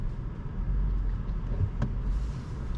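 Inside a 2021 Škoda Octavia iV plug-in hybrid driving in eco electric mode, a steady low road rumble and tyre noise fill the cabin, with one faint brief click partway through.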